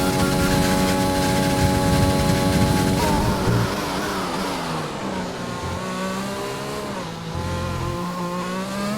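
Race car engine in a racing video game on the Belgium track, droning loud and continuous, rising in pitch as it accelerates down the pit straight, then shifting gears with brief drops before climbing again.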